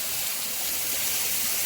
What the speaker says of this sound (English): not a bad place for a shower